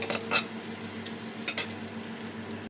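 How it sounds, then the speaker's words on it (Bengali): Dates are stirred in hot oil for badshahi pulao, giving a soft steady sizzle broken by a few sharp scrapes and clinks of the spoon against the pan, close by and with nobody speaking. "খেজুরগুলোকেও কিন্তু আমি এইভাবে একটু তেলের মধ্যে নাড়াচাড়া করে নেব"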